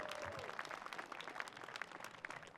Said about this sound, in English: how about another round of applause for Miss Kapala?